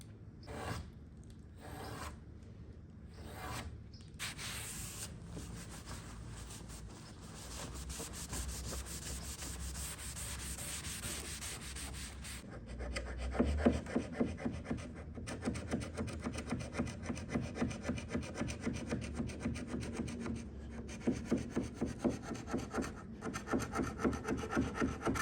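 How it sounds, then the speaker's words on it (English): Continuous scratchy rubbing of steel wool on a painted dresser's finish, first in short strokes with pauses, then faster rhythmic back-and-forth scrubbing that grows louder and steadier. "I've got the steel wool, and I'm just getting off that finish."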